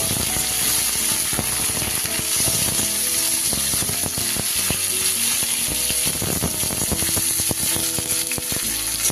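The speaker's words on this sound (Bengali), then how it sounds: "সুন্দর করে এগুলো একটু ভালো করে ভেজে নেব।" Spiny gourd (kankrol) pieces frying in a pan for a vegetarian kankrol jhal, giving a steady, loud sizzle dense with crackles and scraping clicks throughout, with no talking.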